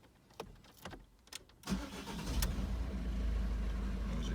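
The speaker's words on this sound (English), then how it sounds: "So start the car up." A car engine, one with a long-running fault, cranks briefly after a few clicks and catches, then settles into a steady, close idle with no talking.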